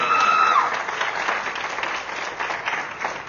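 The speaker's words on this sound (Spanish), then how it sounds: "Aquí vamos a gritar, vamos a aplaudir, vamos a cantar" A crowd at a live podcast taping in Quintana Roo claps and cheers, a dense moderate applause with a brief whistle near the start, slowly tapering.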